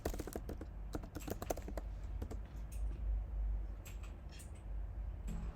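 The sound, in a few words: typing a search keyword on a computer keyboard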